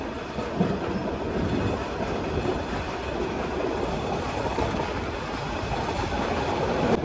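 The Agnibina Express passenger train, Dhaka to Jamalpur, rumbles steadily along the rails, with continuous clattering wheel noise and no voices.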